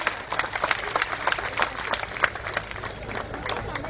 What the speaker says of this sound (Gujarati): આપણે તાળીઓના ગડગડાટથી એમને વધાવી લઈએ